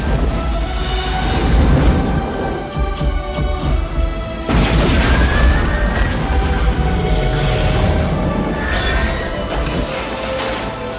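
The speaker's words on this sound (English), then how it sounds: "We have detonation. Confirming detonation." A loud, sustained rumbling detonation with crashing and whooshing debris in a disaster film scene about blowing up an asteroid, booming continuously with a second surge midway and no talk.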